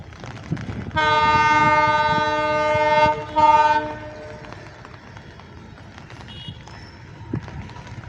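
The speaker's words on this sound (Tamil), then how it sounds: "ட்ரெயின் வருது பாருங்க" A loud freight train horn sounds one long blast, then a shorter one, over the rumble of the train passing nearby on the new Pamban railway bridge during a trial run.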